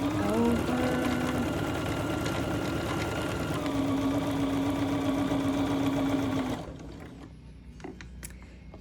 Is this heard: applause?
no